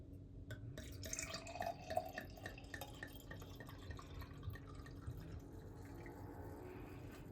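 A drink is poured into a glass, giving a soft, faint trickle and drip of liquid against quiet room noise.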